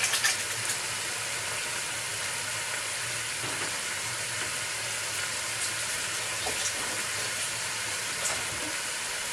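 A kitchen tap running steadily while hands are washed after handling bacon, giving an even, continuous hiss of water with no talk.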